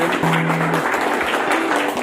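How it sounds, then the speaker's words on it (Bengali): Brief burst of applause from a crowd at a Youth Day Vivekananda festival program, a steady dense patter of clapping over a low tonal hum, lasting about two seconds. "সবাই হাততালি দিয়ে"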